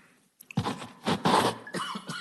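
A few coughs and throat-clearing bursts sound close to the microphone at a parks board meeting, sharp and loud after a brief silence, with no talking.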